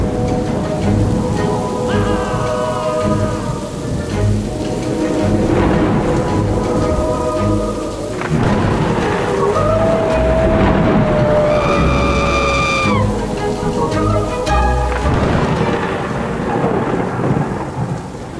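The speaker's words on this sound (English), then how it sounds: "The storm is so bad." A heavy thunderstorm with steady loud rain pouring on surfaces and deep rolling thunder, continuous throughout, with some faint tonal sounds rising over the downpour partway through.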